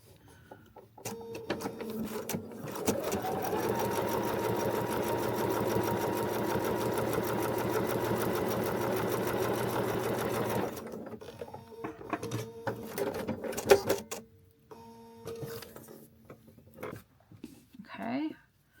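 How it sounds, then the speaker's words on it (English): A sewing machine stitches a paper-pieced feathered star quilt block, a close, steady rapid whirring for about ten seconds, followed by quieter handling sounds and a few soft clicks, with a person talking softly around it. "So now we're gonna go ahead and sew this."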